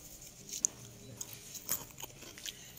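Someone bites into crunchy fried breadfruit sticks, producing a few faint, sharp crunches and crisp chewing clicks spaced over a couple of seconds in a quiet room.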